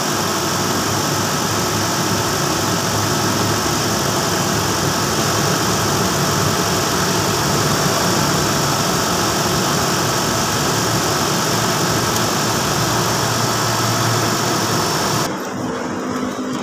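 A Mitsubishi Adventure gasoline engine idles after a thermostat replacement, a steady, even rumble close by that holds constant for about fifteen seconds before dropping off abruptly near the end.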